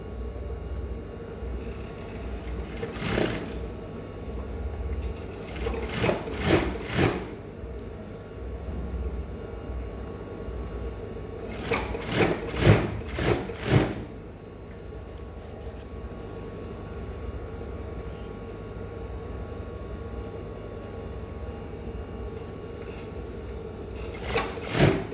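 Sewing machine stitching a graduation hoodie, short bursts of rapid mechanical stitching separated by quieter pauses, close and moderately loud.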